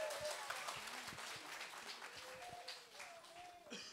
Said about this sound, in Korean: 격려의 박수로 좀 맞이해 주셨으면 감사하겠습니다.